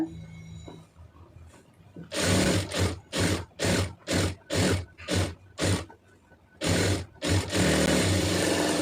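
A sewing machine stitches a blouse shoulder seam in a rhythmic series of short, loud, close bursts separated by brief pauses, ending in a longer run.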